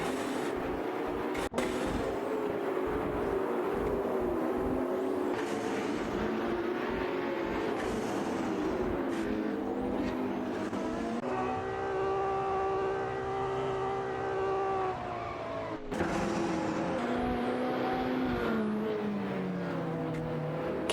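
Race car engines in a racing video game with Lamborghini Huracan Performante and Ferrari cars, a loud continuous droning whine that shifts pitch with gear changes, sustained for the whole stretch without talk.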